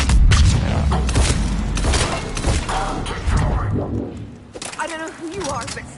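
Gunfire in the video game Mass Effect 3 comes as a flurry of close booms and cracks, loud at first and then easing, with voices speaking near the end.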